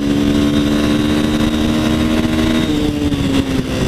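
A Bajaj Dominator 250 motorcycle with a five-speed gearbox rides along, its engine holding a loud, steady drone with a firm low throb throughout and no voices.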